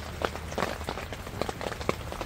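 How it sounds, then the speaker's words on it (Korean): Rain falling at a seaside campsite, a steady soft patter with scattered louder drops striking nearby surfaces throughout. "빗소리가 너무 좋아서"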